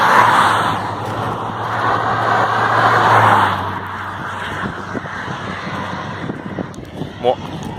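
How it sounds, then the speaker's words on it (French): Cars on a road approach and pass with a broad, rumbling engine and tyre roar, loudest early on and then easing to a softer wash, while a voice talks over the traffic. "Et il y a des voitures qui arrivent"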